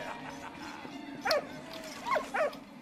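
In the video game Valiant Hearts, a dog gives a few short yips and barks over quiet background ambience, spaced out as separate calls.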